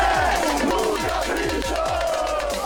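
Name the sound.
crowd of fans at Interlagos racetrack, São Paulo GP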